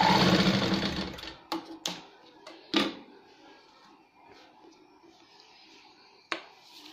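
A sewing machine runs a straight seam on fabric for a baby sun bonnet, a loud steady whir for just over a second, followed by scattered clicks and thumps of handling in a quiet room.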